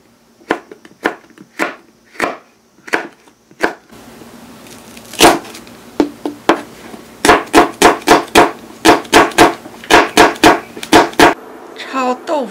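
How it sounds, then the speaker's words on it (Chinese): Knife chopping tofu and shiitake mushrooms on a cutting board, sharp close knocks, first slow and spaced, then a faster steady run of rhythmic chops. "豆腐切成小块备用，把香菇切成片"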